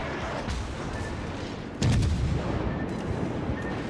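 Naval guns fire on the aircraft carrier Zuiho in a warship video game, one heavy booming salvo standing out over a dense rumbling battle backdrop.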